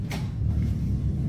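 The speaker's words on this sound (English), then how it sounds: "This thing's always closing doors." A door or cupboard door swings shut in a house near a laundry room, a quick knock-like thud near the start over a steady low rumble of room noise, with no talking.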